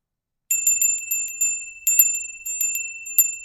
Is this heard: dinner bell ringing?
yes